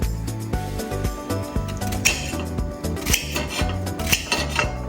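A courgette is roughly sliced with a knife on a board, giving a series of close, irregular chopping knocks and scrapes. Steady background music plays underneath throughout.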